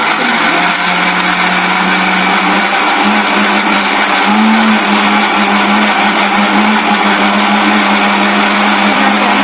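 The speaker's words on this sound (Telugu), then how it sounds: "ఆ ఫ్రై చేసుకున్న ఉల్లిపాయలను ఒక గ్రైండర్ తీసుకొని దాంట్లో వేసుకొని మనం దాన్ని ఇప్పుడు గ్రైండ్ చేసుకుందాం" A mixer grinder whirs loudly and steadily as it grinds fried onions for an egg masala curry. The drone is continuous and motor-like, with no talk over it.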